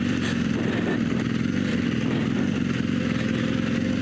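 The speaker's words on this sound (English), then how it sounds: "Kind of letting the engine slow a little bit as the front brake does the rest of the work." A BMW R1200GS motorcycle engine braking in first gear while descending a sandy, rocky downhill, a steady low engine drone with continuous wind rush, close and even throughout.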